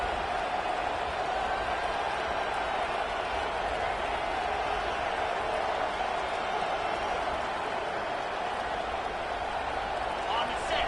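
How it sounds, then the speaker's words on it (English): A football stadium crowd roars in a continuous, dense wash of cheering and noise early in the game, with a commentator talking over it. "This crowd bringing the energy and noise early."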